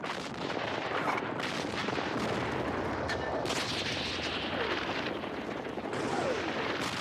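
Heavy cannon fire booms and rumbles continuously, dense overlapping blasts forming a loud, sustained barrage.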